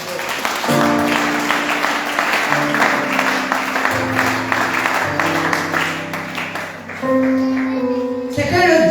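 A church congregation clapping to acclaim the Lord, with steady, dense applause mixed under loud sustained music tones throughout.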